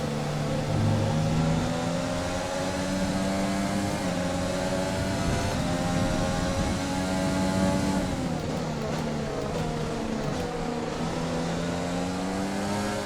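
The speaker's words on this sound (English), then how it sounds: "every time I get back to the gas, the car wants to spin out" A Formula 1 car in F1 2020 racing at the Belgian Grand Prix, engine droning loud and steady with rising and falling revs throughout, no one speaking.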